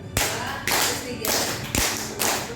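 A group of teachers in a training session claps a patterned rhythm of two claps then three, sharp and close, repeating in loud bursts with little talk.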